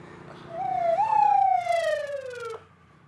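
A single siren sweep rising then falling away over about two seconds, loud and nearby, from an emergency vehicle arriving at a road accident scene.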